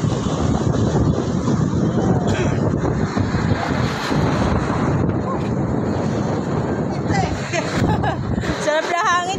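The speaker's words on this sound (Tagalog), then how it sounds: "Grabe hangin oh." Strong wind buffets the microphone at a waterside park, a loud, steady roar lasting throughout, with people talking over it.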